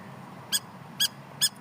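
A bird calls close by with three short, bright chirps spaced about half a second apart over a low, steady background rumble.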